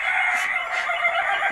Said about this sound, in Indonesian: Ayam ketawa.